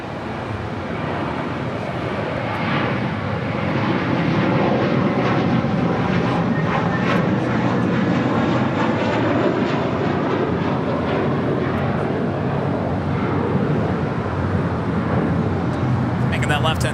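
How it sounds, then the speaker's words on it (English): Air China Boeing 777-300ER arriving from Beijing at LAX, a loud continuous jet roar that builds and holds steady, with a voice talking over it. "Air China Flight 987 coming in from Beijing on this 777-300ER."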